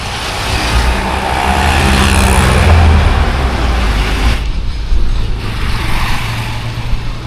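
Road traffic in Ahmedabad, India, a dense wash of car, bus and truck engines rumbling at a busy crossing, loud and continuous with vehicles passing close by.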